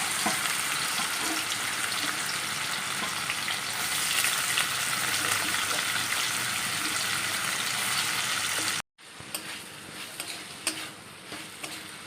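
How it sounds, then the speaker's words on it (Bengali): Whole garam masala, cumin seeds, bay leaf and dried chilli tempering in hot oil, giving a steady, loud, close sizzle and crackle that cuts out sharply near the end, then resumes more faintly. "গোটা গরম মশলা জিরে তেজপাতা শুকনো লঙ্কা ফোড়নে দিয়েছি"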